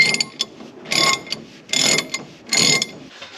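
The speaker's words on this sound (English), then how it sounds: "So I've just grabbed one of my sockets that will fit onto it, and my ratchet arm" A ratchet arm with a socket is swung back and forth, giving four close, crisp bursts of rapid pawl clicking with short pauses between strokes.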